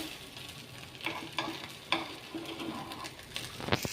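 Rava appe frying in an appe pan over lowered heat while being turned, a soft sizzle with scattered scrapes and taps of a utensil and a bird cooing faintly nearby.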